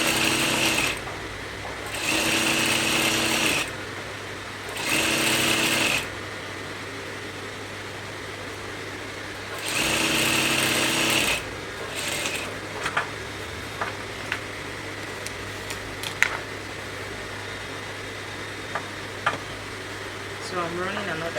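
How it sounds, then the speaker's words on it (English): A sewing machine runs a stitch through kimono fabric in several loud bursts of a few seconds each, separated by pauses. The clip ends with quieter handling clicks and rustles. "let me run the stitch on the other side as well"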